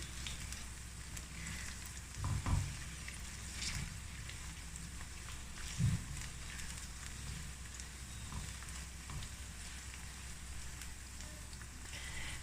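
Okra (bhindi) pieces shallow-fry in a pan for a masala bhindi, giving a steady, moderate crackling sizzle with two brief louder pops and no talking.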